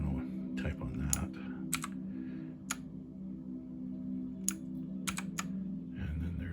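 Keys pressed on an E-YOOSO 81-key mechanical keyboard, a handful of sharp, separate clicks scattered over a steady low hum, with a voice talking faintly underneath.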